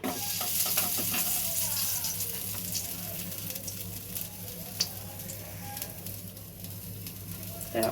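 Bori lentil dumplings and pabda fish sizzle and crackle steadily in hot oil, a continuous close frying hiss with small pops throughout and no talking.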